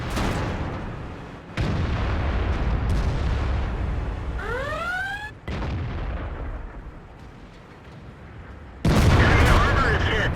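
Tank cannon fire from an IS-7 heavy tank in World of Tanks: several loud, sharp booms break over a dense engine and battle rumble, with a brief rising whistle in between and a final heavy blast near the end.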